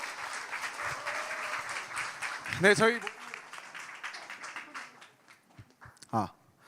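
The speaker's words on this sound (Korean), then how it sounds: "우리 큰 박수로 모셔주시면 감사하겠습니다" Applause from a gathered audience welcoming a singer to perform at a Christmas rally, a moderate spread of clapping under a host's talking, with a loud burst of noise in the middle and scattered claps near the end.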